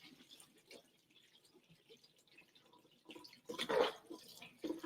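Wild-crafted sea moss is rinsed in water, giving soft drips and sloshing that are faint at first, then a closer, louder splash of water near the end.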